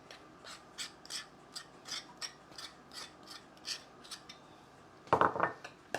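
Chicken fricassee being stirred in a pan, repeated scraping and clinking strokes at a steady rhythm, with a louder rattling clatter near the end.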